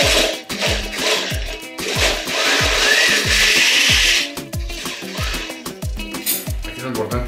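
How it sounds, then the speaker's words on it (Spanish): A kitchen blender pulse-grinds chunky avocado salsa with chile and a pinch of salt, loud bursts with short rhythmic pulses at the start and end around a longer sustained whir in the middle. "Aquí lo importante es molerlo a pulso"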